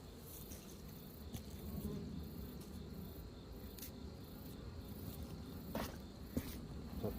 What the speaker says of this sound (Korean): 이렇게 10만 하면 한 번씩 말벌이 옵니다.